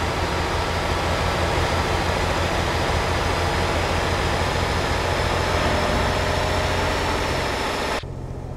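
A Volvo truck engine in the video game Euro Truck Simulator 2 drones as a loud, steady low rumble while driving, then drops off abruptly near the end. No one talks.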